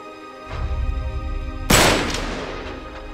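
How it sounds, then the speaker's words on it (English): A single loud gunshot fired at a lock in the video game Uncharted: Drake's Deception, a sharp close blast with a ringing decay after a low rumbling lead-in. "Back up, I'll shoot the lock."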